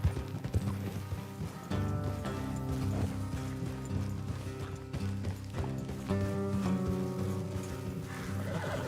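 Horse hooves clip-clopping in Red Dead Redemption 2 as riders travel along a road, a steady trotting rhythm mixed under a continuous tonal game soundtrack with occasional mechanical clatter.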